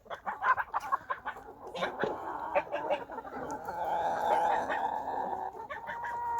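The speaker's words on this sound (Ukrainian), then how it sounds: "І тут з ними їдять кури, які знаходяться в садку." Chickens cluck nearby while eating in a garden alongside geese and ducks, a run of short, repeated clucks and squawks, busy and close, with a continuous murmur of birds behind.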